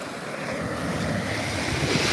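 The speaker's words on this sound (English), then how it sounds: "This is the Atlantic Ocean." Atlantic Ocean surf rolls in with a steady, broad wash of breaking waves, mixed with wind buffeting the microphone, continuous and fairly loud with no voices.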